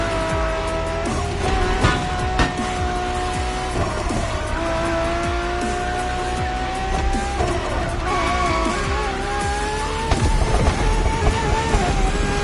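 A LaFerrari races in The Crew driving game, its engine pitch climbing and dropping steadily through gear changes while the tires squeal in long, loud skids, with no talking.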